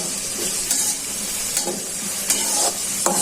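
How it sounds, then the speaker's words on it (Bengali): Chopped onions sizzling loudly in hot oil, with a continuous crackle and several scraping stirs at irregular intervals, close and without voices. "এখন গরম করে দিয়ে দিচ্ছি পেঁয়াজ কুচি"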